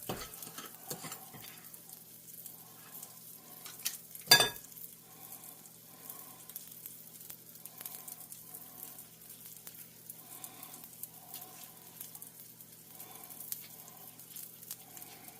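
Rice balls frying in a pan for onigiri, a quiet continuous sizzle with soft crackles, one sharp clatter partway through and faint handling noises.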